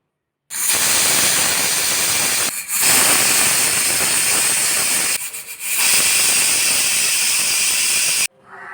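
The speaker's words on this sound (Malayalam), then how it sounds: "കുക്കർ അടച്ച് വെച്ച് വേവിക്കാം മൂന്ന് നാല് വിസിലടിപ്പിക്കാം" A loud, sustained hiss of steam jetting from a pressure cooker whistle while cooking jackfruit, broken by two short pauses before resuming, then cutting off abruptly.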